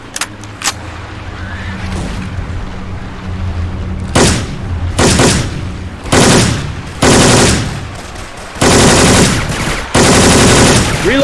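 Bursts of rapid machine gun fire from a belt-fed gun in Left 4 Dead 2 with a Syphon Filter sound mod, loud and close, coming in several sustained volleys with short pauses between them.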